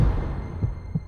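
A fast heartbeat in a Hindi TV drama scene, heard as a few soft, low, muffled thumps in steady succession with no talk over them.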